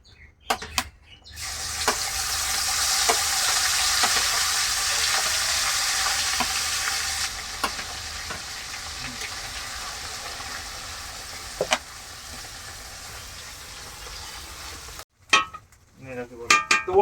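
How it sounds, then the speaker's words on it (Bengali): Ground spice masala frying in a pan for chicken masala, a steady hiss of sizzling with occasional scrapes of stirring, fading softer midway before clattering handling sounds at the end. "আমাদের মশলা ভাজা হয়ে গেছে"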